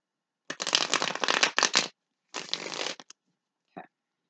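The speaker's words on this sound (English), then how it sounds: "Actually, I want to give this one shuffle." Two bursts of rapid, papery tarot card riffling, up close, followed by a brief single tap; no voices.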